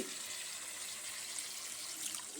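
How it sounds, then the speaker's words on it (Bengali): Water pours steadily into a pan of cooking chicken, a soft continuous splashing hiss at close range, fairly quiet, with no talking over it. "সামান্য জল দিচ্ছি"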